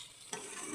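Water hits masala frying in a hot pan and sets off a sudden hissing sizzle. The sizzle follows a quieter stir and carries on briefly, loud and close.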